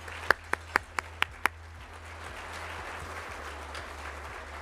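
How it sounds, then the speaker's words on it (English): Audience applause at a public conversation event with a senator: a few sharp, separate claps open, then a steady wash of crowd clapping sustains at moderate volume without talk. "So let's just give Hassan a round of applause as well."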